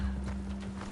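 Horse hooves clip-clop at a quick, steady pace in a video game, a near, continuous patter of hoofbeats with a low constant hum underneath.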